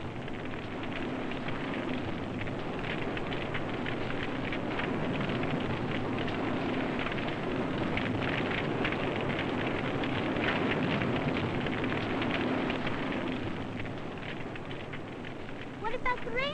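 A forest fire burns with a steady, dense roar and crackle that holds at an even level throughout, loud and enveloping.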